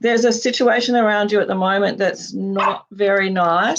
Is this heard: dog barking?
yes